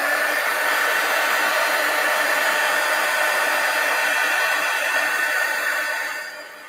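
A hair dryer blows steadily and close on a mixed media collage pumpkin, a constant loud whoosh that holds for several seconds, then drops as it is switched off.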